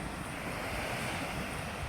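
Sea waves washing onto a peaceful beach, heard as a steady, broad rush of surf mixed with wind noise on the microphone, continuous and moderately loud, with no voices.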